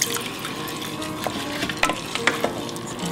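A spoon stirring squash risotto in a hot pan, soft scraping and wet sloshing over a low sizzle, with a few sharper clinks and scrapes near the end.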